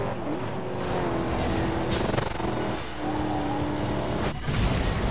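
Racing car engine in the video game Blur, a steady high revving drone with shifting pitch and brief skid-like bursts, loud and continuous with no talk over it.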